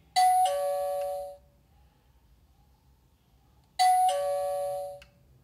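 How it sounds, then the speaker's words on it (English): Vea GSM alarm panel chime set off by a triggered zone sensor: two bright electronic ding-dong tones, each ringing about a second, spaced several seconds apart with quiet between, close and clear. "With zone 1 set as chime type, triggering a sensor will produce a chime"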